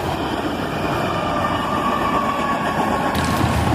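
A manifest freight train hauled by four locomotives, with a rear-facing ET44AH distributed power unit, rolls past close by in a loud, steady rumble of wheels and cars with faint clicking rail joints.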